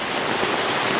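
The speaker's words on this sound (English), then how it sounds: "rain blowing sideways." Heavy storm rain driven sideways by strong winds pours in a dense, loud, steady hiss with no voices.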